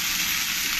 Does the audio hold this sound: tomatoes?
yes